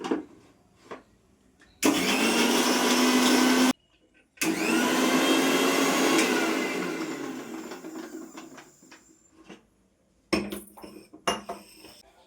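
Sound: mixer grinder grinding ginger and garlic into paste

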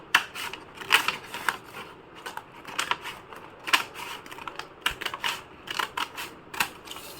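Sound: cutting a folded paper bag

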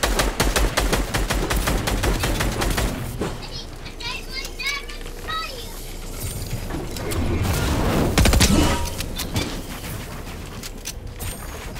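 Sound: SMG gunfire in a video game

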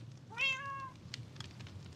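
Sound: cat meowing in video game Minecraft

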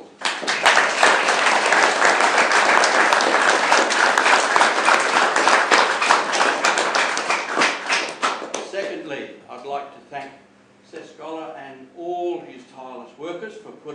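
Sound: audience applause

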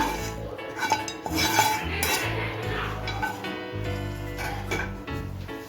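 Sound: stirring semolina laddu mixture with cardamom powder in a pan

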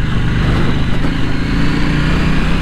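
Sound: KTM Duke 790 motorcycle being ridden

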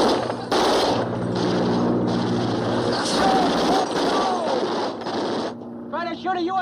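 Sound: gunfire during an air raid

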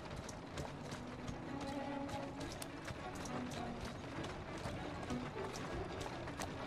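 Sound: horse hooves walking, from video game

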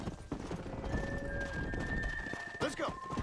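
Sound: cattle herd running with horses in Red Dead Redemption game

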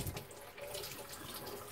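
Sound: hot water running from tap to rinse cloth

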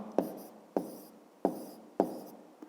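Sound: pen writing answer in notebook

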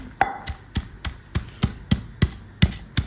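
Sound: pounding a garlic clove in a mortar

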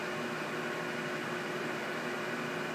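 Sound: Haas TM2 CNC mill spindle running at 4,000 RPM

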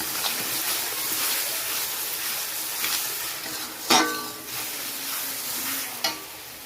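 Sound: mutton being sautéed and stirred in a pan

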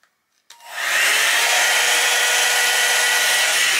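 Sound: B&M Elle blow-dry brush running

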